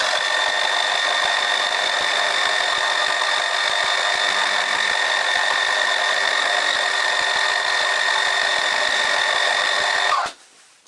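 A milling machine cuts a 5 mm slot in the steam valve for a Stuart 10V model steam engine. It makes a steady, close, high mechanical whine with a constant pitch for about ten seconds, then stops abruptly.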